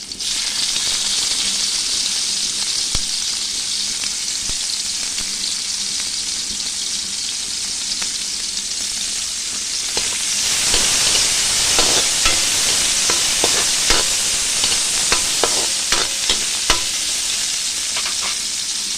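Garlic and onion fry in a pan with a loud, steady sizzle that grows busier and crackly partway through, with occasional stirring clicks.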